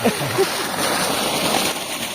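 Water from a diesel-powered dual pump gushing and splashing steadily into a full drum on a demo farm, a close, continuous rushing pour.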